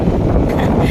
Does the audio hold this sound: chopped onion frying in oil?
no